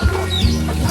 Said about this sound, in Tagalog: Mga manok na.